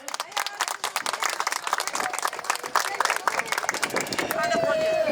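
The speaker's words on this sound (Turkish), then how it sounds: "Alkışlayalım efendim" Sharp, rhythmic clapping from guests at a Turkish wedding in Kulu, Konya, close and lively, with chatter and voices mixed in and a sung tone near the end.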